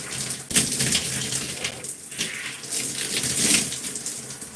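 Running water rinses shampoo out of gray natural hair, a steady close splashing hiss from a tap with uneven surges as the stream hits the head, no talking.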